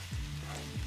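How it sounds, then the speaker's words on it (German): Onions, garlic and a teaspoon of green curry paste frying in a pan, a steady close sizzle with soft stirring clatter, no voices. "Dort werden dann die Zwiebeln, der Knoblauch und ein Teelöffel Currypaste angebraten."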